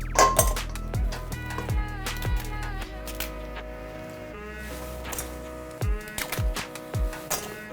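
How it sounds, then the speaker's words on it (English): Dungeness crab legs dropped into a bowl, giving a series of sharp clinks and shell clatters spaced irregularly, close and fairly loud, with quiet ringing tones lingering between the knocks. "I'm going to take my legs and put them in the bowl over here."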